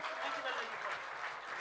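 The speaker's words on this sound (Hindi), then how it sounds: "भरपूर तालियां जी।" Applause from the crowd at a Bradford solidarity gathering for the Jammu Kashmir Joint Awami Committee, a steady, fairly faint wash of clapping that holds evenly throughout.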